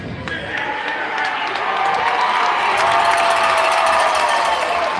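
A large crowd at an ice hockey game against Sioux City cheers and shouts loudly, building steadily in a big arena.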